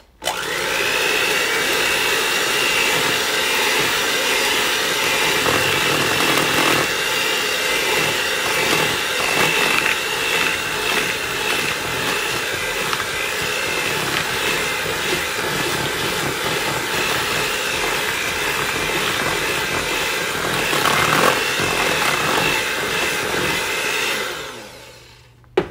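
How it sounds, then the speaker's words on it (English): An electric hand mixer runs steadily and loudly for about 25 seconds, whirring through sweet potato corn bread batter in a bowl, then switches off near the end, with no talk over it. "I'm going to get this all blended up first. And I use a hand mixer for this."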